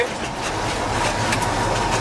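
A KrAZ 255 Soviet off-road truck drives over a smoother test stretch, giving a steady low rumble with rattling and clanking throughout, moderately loud and without speech.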